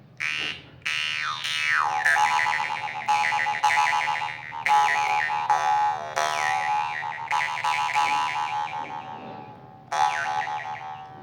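A Vietnamese dan moi jaw harp twangs with a steady drone and wavering, vowel-like overtones, played in rhythmic repeated bursts with short gaps, close and fairly loud.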